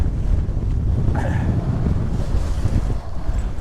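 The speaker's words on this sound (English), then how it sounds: "it's very windy today" Strong wind on the South Jura Trail buffets the microphone in a constant heavy roar throughout, loud and close, with no voices.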